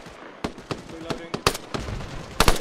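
Machine-gun fire passes overhead in the military game ArmA as a series of sharp, irregular cracks and bursts. Voices talk in the background.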